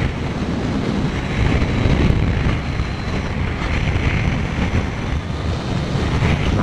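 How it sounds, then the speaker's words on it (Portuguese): Strong wind buffets the microphone during a Kawasaki Z900 motorcycle ride up a mountain road, a loud, continuous broadband roar that persists throughout with no speech. "Sem falar que tá uma ventania aqui, que tá louco."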